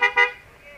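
A vehicle horn gives two quick toots close by, then fades into a faint lingering tone, during a mountain bike race in Sonora.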